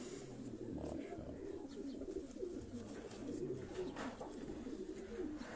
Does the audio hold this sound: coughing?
no